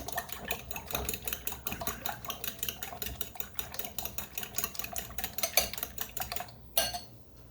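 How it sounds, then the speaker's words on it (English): Five eggs being whisked in a bowl, a quick steady run of light rhythmic clicks and taps from the whisk that continues throughout at moderate, close volume. "I'm going to whisk up these eggs. There's 5 eggs here."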